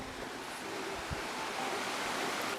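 Creek water rushes steadily where the Great Broad Ridge Trail crosses Injune Creek, a constant broad wash of flowing water heard up close without voices.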